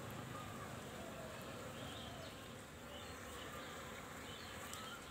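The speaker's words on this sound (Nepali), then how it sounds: "र यसरी मौरीहरू चाहिँ अहिले पसिरहेको छ।" Bees brought in from the forest entering a newly built hive make a faint, steady, dense buzzing hum that continues without a break, with no distinct voice over it.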